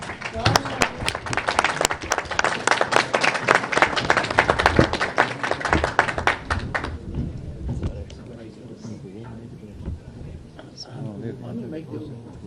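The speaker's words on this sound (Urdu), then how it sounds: "چودھری اعتزاز احسن زوردار تالی" A room of lawyers at a round table conference bursts into loud, dense applause for senior lawyer Aitzaz Ahsan. The clapping lasts about seven seconds and then gives way to someone speaking.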